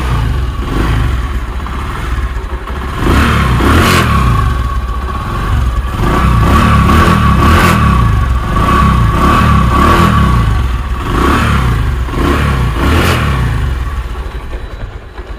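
A second-hand Bajaj Discover 100cc motorcycle with about 17,000 km on it runs close by, its engine rising and falling through several loud revs over a steady idle.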